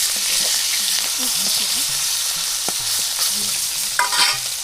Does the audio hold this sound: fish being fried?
yes